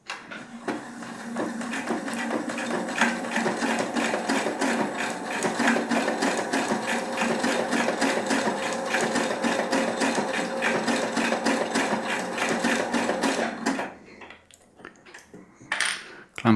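A Husqvarna Topaz 25 sewing machine stitches at around 1200 stabs per minute, a fast, even mechanical chatter that runs loud and close for nearly fourteen seconds, then stops and leaves a few faint clicks.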